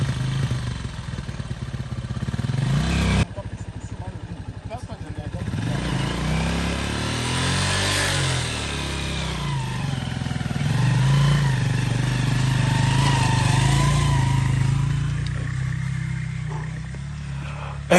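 Motorcycle bogged down in mud on a rough rural road in Cameroon while being pushed: the engine drones and revs unevenly under strain, with clattering, and stays fairly steady and close throughout.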